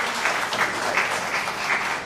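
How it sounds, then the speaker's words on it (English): An audience at a 1 Million Cups startup presentation claps for the presenter, a steady, moderately loud patter of hands lasting a couple of seconds. "You can clap."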